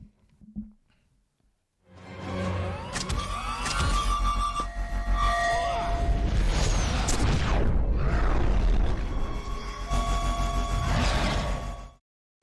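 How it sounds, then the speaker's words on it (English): A sci-fi sonic cannon fires: a sustained, roaring blast with heavy rumbling bass and whining, metallic layers builds and holds for about ten seconds, then cuts off abruptly. "That was the sound of the Sonic cannons."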